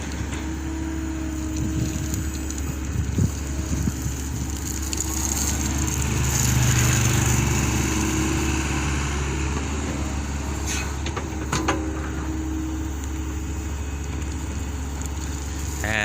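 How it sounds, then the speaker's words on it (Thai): An SDLG E660FL mini excavator's diesel engine idles steadily and loudly up close, a constant low rumble with faint mechanical clanks over it. "เสียงเครื่องยนต์นิ่มดีจังเลยครับ"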